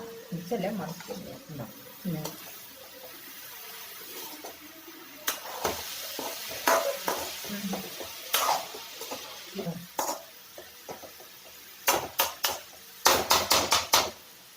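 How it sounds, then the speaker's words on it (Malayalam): Mixing a Kerala-style banana flower stir fry in a pan gives irregular scrapes and sharp metallic clanks of a utensil, growing into a quick run of knocks near the end, with a person speaking over the early part. "ഇനി നമുക്ക് നന്നായിട്ട് അതൊന്ന് മിക്സ് ചെയ്ത് കൊടുക്കാം."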